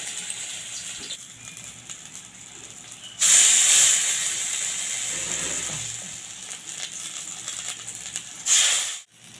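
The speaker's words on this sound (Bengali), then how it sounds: "এইভাবে সময় ধরে ধরে লাল লাল করে পোস্তর বড়াগুলোকে ভেজে নিতে হবে" Flattened poppy seed fritters fry in hot oil in a wok over low to medium heat. A steady hiss swells into loud sizzling bursts partway through and again near the end, with no talking.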